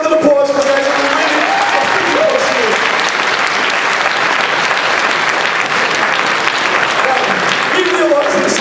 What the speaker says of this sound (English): Let's give a round of applause for guys.